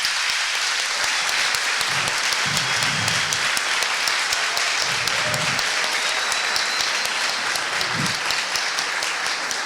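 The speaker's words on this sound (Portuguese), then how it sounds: "Salva de palmas." Sustained applause from a large conference audience, many hands clapping in a dense, even wash that holds steady throughout.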